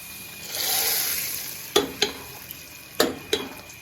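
Cumin and garlic tempering for dal sizzles in hot oil, a soft hiss swelling early, then several sharp scraping and stirring clacks of a utensil against the pan, close and fairly loud.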